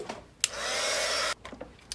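A hair dryer blows steadily on a painted art journal page for nearly a second, a loud even whoosh that starts and stops abruptly, with quiet handling sounds before and after.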